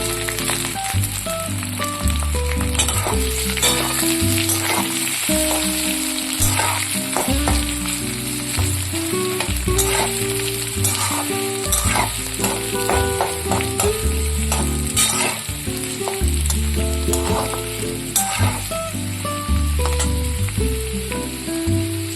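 Chopped onions frying in hot oil with garlic already browned, a dense continuous sizzle with stirring clatter throughout, loud and close with no talk.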